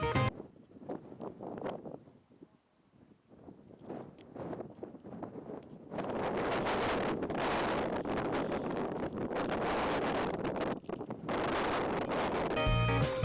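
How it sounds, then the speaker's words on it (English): Strong wind buffets the microphone in the Badlands of South Dakota, starting as gusty bursts, then turning into a steady, loud roar for the rest of the stretch. "And boy was it windy."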